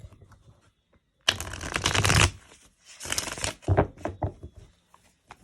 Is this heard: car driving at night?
no